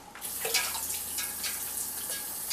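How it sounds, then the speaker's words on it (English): Water running from a tap to rinse out a pouch while making homemade root beer, a steady splashing rush with brief gurgling surges, close and alone. "I'm going to get a little more water to rinse out this pouch"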